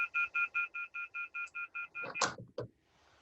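Telephone keypad tones: a rapid run of about twelve evenly spaced dialing beeps, clear and close, followed by a couple of sharp clicks and clunks as the handset is handled.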